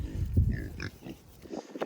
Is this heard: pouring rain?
no